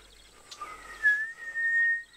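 Soft, quiet whistle blown through lips pursed into an O, a thin breathy tone rising into two faint sustained notes over about a second, close by with no talk.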